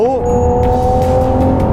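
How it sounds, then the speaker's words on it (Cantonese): A Ferrari Purosangue V12 engine holds a steady high-revving drone with strong harmonic tones, loud and close, after a brief rising sweep at the start. "高轉個聲，陳生做到嘢啊你"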